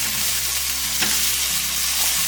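Vegetables sauté in a pan for a lightened-up chicken scampi, giving a steady, close sizzle and frying hiss with a brief stir or scrape near the middle, no voices.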